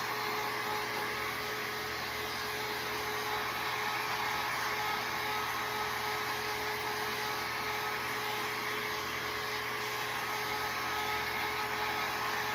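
A heat gun blows steadily as it dries a reverse decoupage piece, making a continuous, even roar of rushing air with no pauses and no talk.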